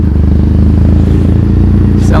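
Motorcycle exhaust from the tailpipes during a ride through Tokyo, a loud, steady low engine drone close to the microphone that holds an even idle-like throb throughout.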